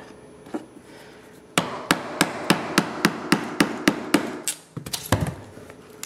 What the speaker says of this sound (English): so I'm just going to keep going, keep chiseling away